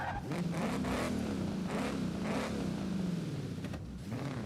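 An old-school sports car in Forza Horizon 5 is driven with a rising and falling engine note, revving up and easing off several times, near and steady, with no talk.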